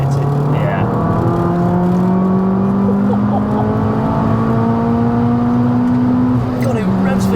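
Tuned 340 bhp Abarth 595 engine revving hard from low revs toward a 7,500 rpm limit, its rising note climbing steadily and holding loud and close, with turbo whine on top and people talking briefly over it.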